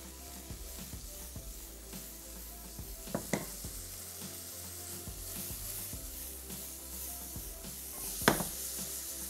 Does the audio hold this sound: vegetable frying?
yes